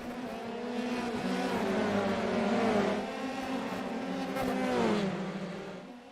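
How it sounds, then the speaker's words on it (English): Formula race car engines in iRacing at Long Beach rev and whine together at the race start, a loud multi-engine drone rising and falling in pitch as the field accelerates. "The revs for these drivers going to be in the red here as they're getting their engines ready to get started"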